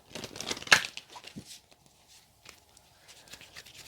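A deck of tarot cards is shuffled close by, giving soft papery riffles and crinkles with one sharper burst near the start, then quieter scattered rustling.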